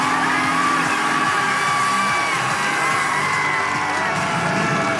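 A large arena crowd at the American Ninja Warrior Women's Championship in Las Vegas cheers, whoops and yells loudly and without a break, a dense continuous roar.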